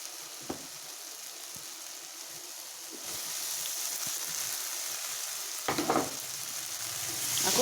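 Masala with fried soya chunks and boiled potato for a home-made soyabean curry, frying in a pan with a soft sizzle that swells midway, punctuated by a few scraping stirs.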